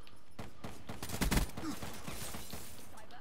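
Gunfire in a gun game match in a video game, a quick rapid burst of shots near the middle over a steady background, fairly faint overall.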